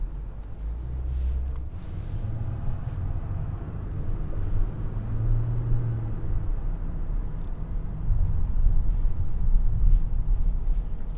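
A 2021 Mercedes-AMG S500 long-wheelbase sedan accelerating through city streets, heard from inside the cabin as a soft, steady low rumble of engine and road noise that swells gradually, with no talking.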